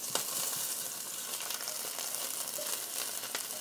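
Chopped onions fry in an overheated pan of olive oil, giving a dense, continuous sizzle with sharp pops and crackles close up and no talking.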